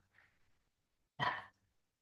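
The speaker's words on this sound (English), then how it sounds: "My dog is barking." A pet dog indoors gives one short, sharp bark, fairly near and loud, after a faint muffled sound, with quiet otherwise.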